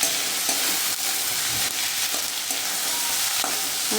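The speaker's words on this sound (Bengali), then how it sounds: "এভাবে পেঁয়াজটা এইভাবে নাড়াচাড়া করতে করতে আস্তে আস্তে নরম হতে দিতে হবে, ভাজা হবে পেঁয়াজটা" Onions fry in a pan for poppy-seed paste, a steady close sizzle under repeated scrapes and knocks from a stirring spoon, continuous with no talk.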